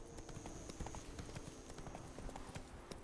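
Roach, a horse in the video game Witcher 3, trots along with rapid, evenly spaced hoof clip-clops, crisp and close, in a steady rhythm.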